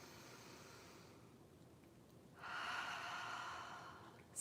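One slow, soft breath exhale during a guided self-care breathing exercise. The breath is drawn out and breathy after a quiet pause, close and alone.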